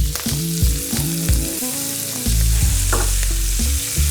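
Vegetables sizzle in a pot while cooking for a creamy chicken stew. A continuous close frying hiss carries over a steady background of music.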